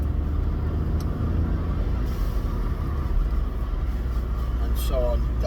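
A Smart 453 0.9T turbo car with a manual gearbox and a Forge blow-off valve fitted, driving along with a steady, loud engine and road rumble throughout and a brief hiss near the end.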